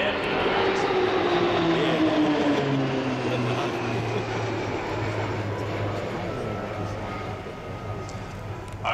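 A jet aircraft with ejection seats roars past at an airshow, a loud sustained rush whose pitch falls steadily as it passes, while an announcer talks over it.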